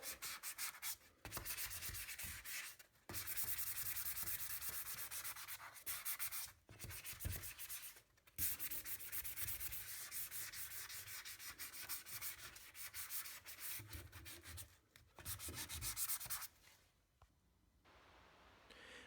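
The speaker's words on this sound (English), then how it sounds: "We got everything lightly sanded" A faucet is lightly sanded by hand before priming and painting, giving steady close-up scratchy rubbing strokes with brief pauses, then tapering off at the end.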